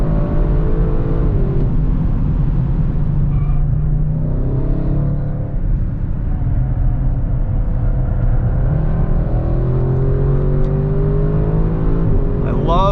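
A 2021 Audi RS6 Avant engine drones steadily and loudly as the car is driven hard on a race track, the note rising and falling through corners while someone talks over it throughout.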